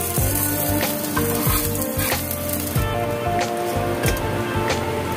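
Eggs fry for egg poach in a covered pan, giving a steady, close sizzle and crackle of hot oil with small pops throughout.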